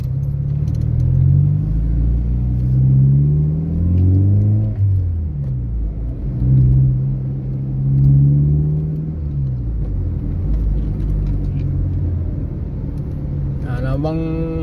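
Inside a car on a highway, the engine hums low and rises and falls through several gear changes, with a smooth rumble underneath and faint rattles near the end.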